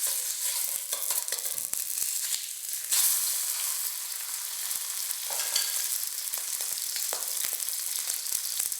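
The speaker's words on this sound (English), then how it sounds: "Pat the fish dry and fry the fish" Patted-dry fish fries in ginger oil over medium heat, giving a dense, continuous close hiss and crackle with scattered pops and light clicks throughout, and no one speaking.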